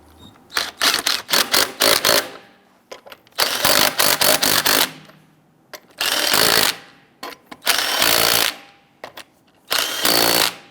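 An impact or power tool snugs down lug nuts on a Jeep Grand Cherokee wheel, loud close whirring bursts of one to two seconds, repeated in several runs with short pauses between.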